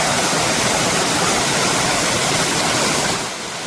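Belligundi Falls in Shivamogga, Karnataka, water pouring down in a dense, loud, continuous roar heard close up, easing slightly near the end, no voices.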